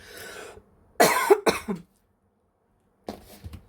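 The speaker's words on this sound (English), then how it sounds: "I'm going to cough again" A person coughs up close: a quiet breathy sound, then a sharp burst of two or three coughs, a pause, and another short cough.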